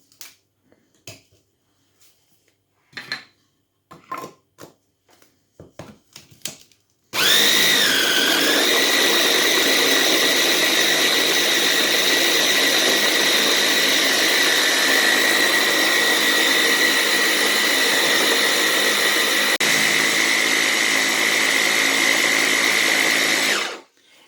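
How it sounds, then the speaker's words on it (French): Fresh thyme, rosemary and bread are blitzed into homemade breadcrumbs in a loud, steady whirring blender running about seventeen seconds, after a few soft kitchen clicks and knocks. "le thym frais, du romarin et on va mixer tout ça ensemble."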